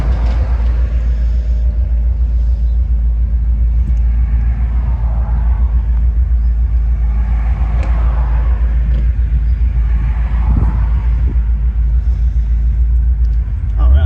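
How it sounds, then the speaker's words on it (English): A 1956 Ford Fairlane Sunliner convertible idles and runs outdoors in Kentucky, its engine giving a steady, low rumble that holds throughout with small swells in level. "we're going to take this 1956 Ford for a test drive and see how it does"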